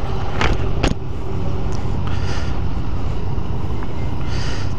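Engine of a 2015 Yamaha FZ-09 (MT-09) motorcycle while riding, a loud, steady drone mixed with heavy wind rush and a couple of brief sharp knocks near the start.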